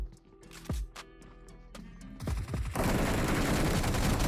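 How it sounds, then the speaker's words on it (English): Gunfire in PUBG during a tournament match: a few scattered, separate shots early on, then a dense sustained burst of rapid automatic fire that fills the rest of the stretch, loud and close. "A little pre-fire from Chosen One might have been his undoing"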